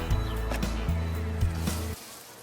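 Honey bees buzzing at the hive, heard up close: a dense, steady hum with overlapping droning tones and small pitch shifts, loud for about two seconds and then dropping away.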